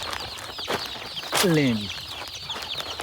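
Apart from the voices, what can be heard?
hens and chicks clucking on poultry farm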